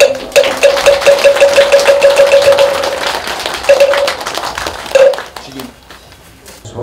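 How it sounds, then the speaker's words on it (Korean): Hands clap in a quick, steady rhythm at a Korean Buddhist abbot installation ceremony at Bongamsa temple in Haman, with a sustained tone running beneath the claps before they thin out and stop. "박수"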